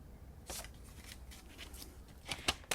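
Cardstock sliced on a paper trimmer, a few short crisp rasping strokes close by, quiet between them and a sharper cluster at the end.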